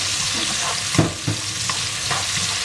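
Bamboo shoots with minced pork, chili and garlic stir-frying in a pan, a close, even sizzle with a few soft scrapes and thumps from the spatula.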